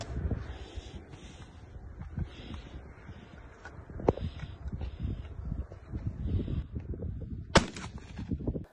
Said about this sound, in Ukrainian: Ось дядя Ігор стріляє.